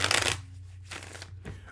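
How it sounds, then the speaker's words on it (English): A deck of tarot cards is shuffled by hand up close, in two or three quick riffling bursts separated by brief pauses, over a low steady hum. "Let me give it another shuffle here."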